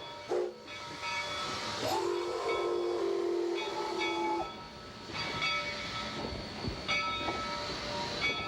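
A historic train rumbles and hisses steadily on iron wheels, with a long steam whistle tone sounding early, then clanks, rattling coupling pins and wheel noises over the continuous rolling roar.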